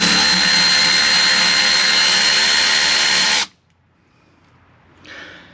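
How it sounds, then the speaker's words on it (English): A power tool working a 10mm bolt on the trim linkage of a 2022+ Kawasaki Ultra 310 jet ski, a loud continuous buzzing whir for about three seconds that stops abruptly, then a faint short whir near the end. "Remove the 10mm bolt that secures the trim linkage in place."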